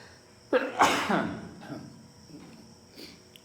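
A single sharp sneeze bursts out close by, followed by a short trailing exhale and quiet room noise.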